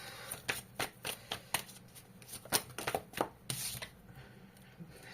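Tarot cards are shuffled by hand, giving a quick series of soft riffling flicks and slaps, close and fairly quiet, with no voices.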